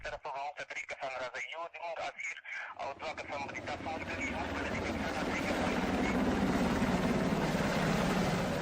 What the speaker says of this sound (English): Then a Black Hawk helicopter lands.